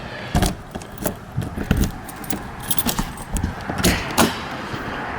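Keys jangle and clink in several short bursts at close range, with no talking.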